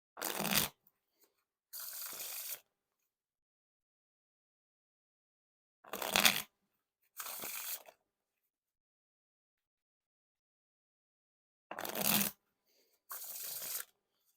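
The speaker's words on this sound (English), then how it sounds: "Now on to the Wiffle Shuffle or Bridge Shuffle." A deck of Grey Art of Play branded playing cards is riffle shuffled and bridged three times, each pass a sharp burst of rapid card flicks followed by a softer cascade, separated by long silences in a quiet room.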